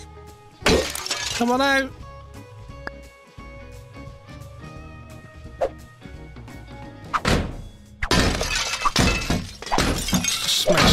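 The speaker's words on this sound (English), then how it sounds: "Smashed the crap out of everything." Objects smash and shatter in the Kill It With Fire video game, with a cluster of loud crashes near the start and a denser burst of breaking near the end, while someone talks between them.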